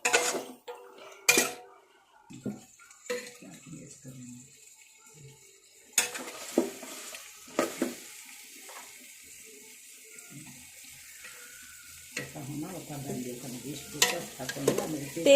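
Mutton biryani is stirred in a metal pot, with a spoon clanking and scraping against the sides in irregular bursts, up close, over a light sizzle and moist bubbling.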